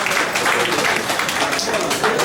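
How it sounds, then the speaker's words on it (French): Audience applause at an evening awards show on Marie-Galante, a steady dense patter of clapping filling the room throughout, with faint voices mixed in. "avec les applaudissements du public"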